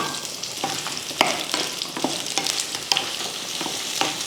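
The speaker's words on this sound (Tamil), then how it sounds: "ரெண்டு பெரிய வெங்காயமும் ஒரு நாலஞ்சு பூண்டு பல் எடுத்திருக்கேன் அதை சேர்த்துடலாம்" Onions and garlic cloves frying with roasted chillies in a pan, a steady close sizzle with regular scraping strokes of a spoon stirring through the pan.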